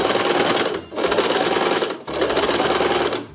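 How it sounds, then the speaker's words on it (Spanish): A sewing machine stitches a sleeve onto a garment being remade from old clothes, running in three loud, steady bursts with brief pauses between them. "Aquí estamos cosiendo la manga."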